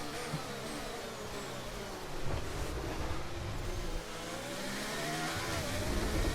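F1 cars from the F1 23 video game race side by side during an overtake, a steady high engine drone that swells briefly midway, with no talk over it.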